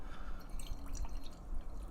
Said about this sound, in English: So let's pour this guy and see what it's all about.